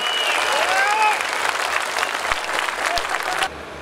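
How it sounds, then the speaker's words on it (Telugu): A loud, dense burst of audience applause at a public gathering in Tenali, the clapping sustained and steady for over three seconds before dropping off abruptly, with a faint voice briefly audible over it. "గట్టిగా చప్పట్లు కొట్టి మీరు కూడా అభినందించాల్సిన అవసరం ఉంది"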